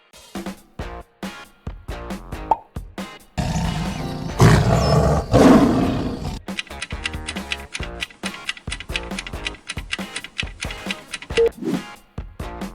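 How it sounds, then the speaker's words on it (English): A tiger roars in several loud, rough bursts, close and powerful, set among clicking, percussive noises. "Tiger."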